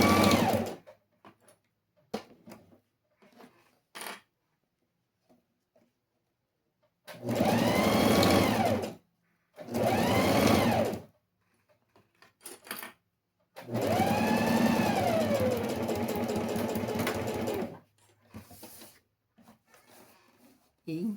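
A sewing machine stitches lining to the fabric of a homemade pencil case in three bursts of a few seconds each, with quiet pauses and brief clicks of handling between them.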